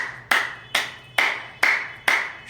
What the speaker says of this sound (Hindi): और ताली बजाएं जोर से